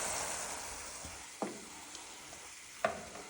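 Papad sizzle steadily in hot oil, a close, continuous hiss broken by a few sharp clinks and scrapes of a utensil against the pan.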